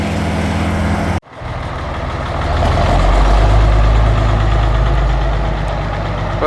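A 560 282 diesel tractor engine idles loud and close with a rough, knocking rumble. A sharp cut early on is followed by a steady, slightly swelling drone.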